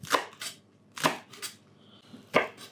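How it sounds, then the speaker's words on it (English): A knife chops herb leaves on a cutting board for homemade pizza, with four or five sharp, close thuds at an irregular, unhurried pace and no talking. "So just chop those quite chunky."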